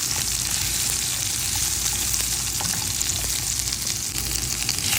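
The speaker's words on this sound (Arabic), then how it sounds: "هحمر الجزر فيها كمان شوية" Carrots frying in a pan for a rice, carrot and pea dish, with a steady close sizzle and crackle under occasional stirring scrapes, continuous and fairly loud with no talk.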